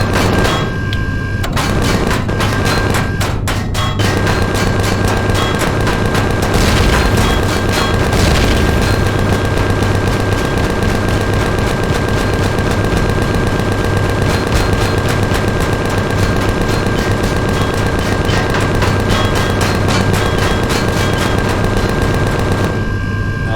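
Weapons fire and explosions at a space station in the Empyrion Galactic Survival space game, a dense, continuous barrage of booms and rapid gunfire that stays loud for the whole stretch, with no talking.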